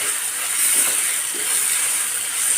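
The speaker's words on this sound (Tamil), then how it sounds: "இந்த வதங்குற இதுலையே பச்சை மிளகாய் போட்டுக்கிடுவோம்." Three green chillies sauté with onion and tomato in a pan for a ladies finger (okra) curry with curd, giving a steady, close hiss and sizzle that runs without a break, and no one speaks.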